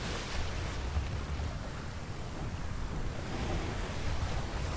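Steady, loud wind roars continuously in the survival game Atlas, a broad rushing gust with surf-like swells and no speech.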